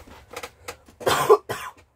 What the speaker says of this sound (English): Oh, I'm gonna cough again.